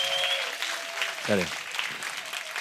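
A church congregation at a revival gathering claps for someone being thanked. The light, scattered applause sits under a nearby voice that speaks briefly over it.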